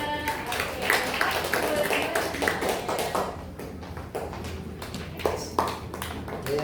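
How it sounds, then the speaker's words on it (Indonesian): Young third-grade pupils clap in a classroom, a scattered, uneven patter of hand claps that comes in bursts and thins out toward the end, with talking mixed in over it. "Tepuk tangan, biar bisa"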